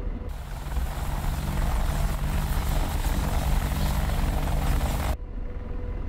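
AH-64D Apache attack helicopter in the DCS flight simulator, a loud steady rotor and turbine drone filling the cabin, continuous and close, cutting off abruptly near the end to a quieter hum.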